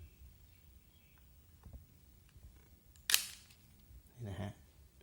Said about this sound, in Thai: นี่ครับสังเกตชัตเตอร์จะเปิดนานขึ้นนะครับ